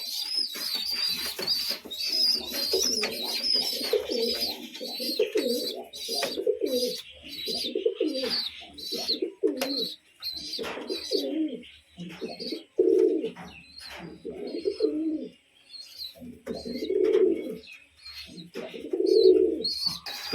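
Pigeons coo repeatedly close by while feeding their chick in the rain, rhythmic low cooing phrases with high squeaky begging chirps from the chick running through the whole stretch.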